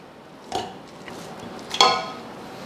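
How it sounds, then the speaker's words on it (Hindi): Raw meat goes into a metal pressure cooker for a yakhni pulao, giving two separate clanks and clinks of metal with quiet pauses between them. "इस प्रेशर कुकर में डाल लेंगे"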